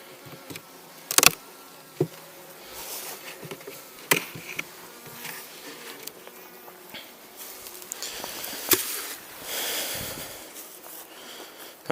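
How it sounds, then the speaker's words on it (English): Wasps buzzing around a beehive and feeder, a continuous close droning hum that rises and falls as insects fly past, with occasional sharp taps and flutters. "Wasps in the feeder, wasps in everything."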